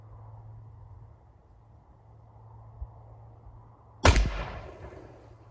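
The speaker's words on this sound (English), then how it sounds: "what I want are 3 shots as tight as possible together" After a few seconds of quiet outdoor air, an 1842 Harpers Ferry .69 caliber smoothbore musket fires one sharp, loud shot, and the blast fades over about a second.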